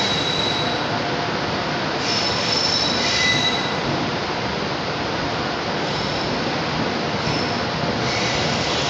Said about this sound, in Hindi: चंडीगढ़ जंक्शन और अपनी ट्रेन आई है चंडीगढ़ के प्लेटफॉर्म नंबर 3 पे।